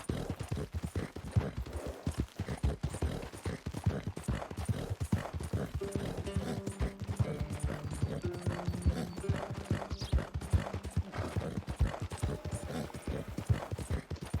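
Horse hooves clip-clop at a steady gallop in Red Dead Redemption 2, a continuous rhythmic pounding held close and fairly loud for the whole stretch, with faint tonal game sounds drifting underneath.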